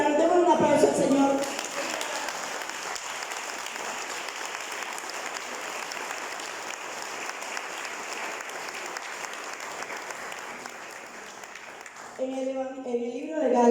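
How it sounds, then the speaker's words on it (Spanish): A church congregation keeps up sustained applause for about ten seconds, moderately loud and even, with a voice talking just before it begins and again as it fades. "Demos un aplauso al Señor"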